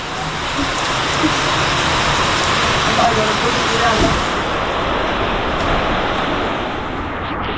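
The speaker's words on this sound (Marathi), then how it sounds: "मस्त पाऊस पडतोय" Heavy monsoon rain pouring steadily at a resort in Karjat, a dense, loud hiss of water that stays constant throughout with no break.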